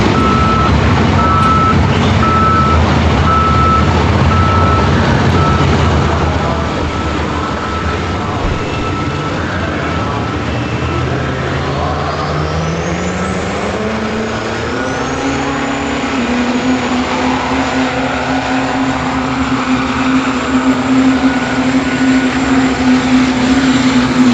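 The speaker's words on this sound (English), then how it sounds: "Chris Rodriguez, number 2 hook here in our work stock diesel truck class." A work stock class diesel truck drags a sled at a truck pull in Madera, California. The engine roars loud and steady, its pitch climbing as the run goes on, with a reversing beep sounding throughout.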